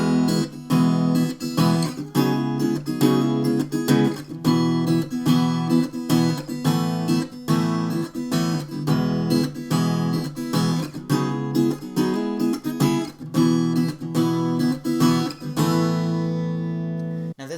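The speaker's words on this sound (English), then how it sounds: "he starts strumming out the chords instead" An acoustic guitar strums chords in a steady, driving rhythm, close and clear, with no voices, ending on a ringing final strum.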